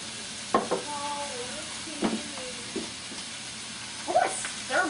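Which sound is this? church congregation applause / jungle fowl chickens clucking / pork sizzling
pork sizzling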